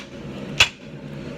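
A single sharp hammer blow lands on a hot steel billet while a peen is drawn down at a forge during hand-forging of a 3 pound straight peen hammer, one loud ringing strike over a steady low background hum.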